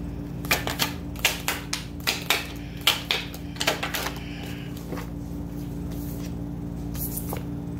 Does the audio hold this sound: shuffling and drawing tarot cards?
yes